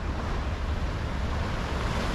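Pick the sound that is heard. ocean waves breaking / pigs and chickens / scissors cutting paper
ocean waves breaking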